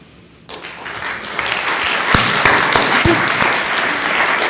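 Applause from an audience at an HPV awareness talk, a dense wash of many hands clapping that starts abruptly after a quiet moment and holds steady, fairly loud and close, with no voices over it.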